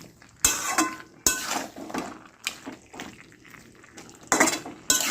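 Fried prawns are tipped into a pan of cooking vegetables and stirred, with repeated close scraping and clattering of a metal spatula against the pan over a faint sizzle.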